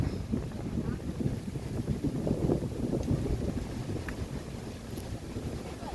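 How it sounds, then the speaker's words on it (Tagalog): Steady low rumbling wind buffets the microphone on a cold mountain trail, a continuous blustery roar with faint outdoor background sounds. "Napakalakas ng hangin."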